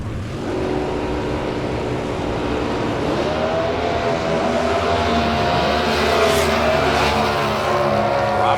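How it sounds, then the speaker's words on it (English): B Econo dragster launching hard down a drag strip, its loud engine roaring steadily close by with rising, wavering pitch and no voices over it. "Chase Williams turned that B Econo dragster loose."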